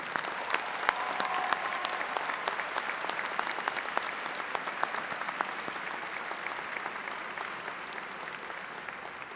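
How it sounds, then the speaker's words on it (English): A graduation ceremony audience at Northeastern College of Professional Studies applauds steadily, a dense wash of many hands clapping at an even level for several seconds with no voices over it. "let's give them a round of applause."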